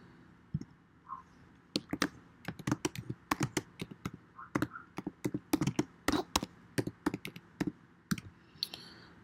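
Typing on a computer keyboard: quiet, close clicks and taps arrive in irregular bursts with short pauses, alone in a still room.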